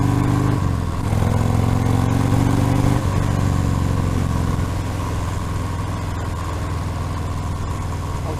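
A Harley-Davidson Fat Bob 114 motorcycle rumbles steadily while being ridden, a loud continuous low engine drone with a brief dip and rise in pitch near the start.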